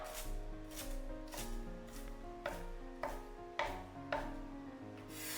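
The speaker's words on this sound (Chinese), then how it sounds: "几根洗干净的香菜切成小段" Washed coriander is chopped into short pieces on a board, about seven distinct knife strikes at an uneven, unhurried rhythm, close and fairly quiet.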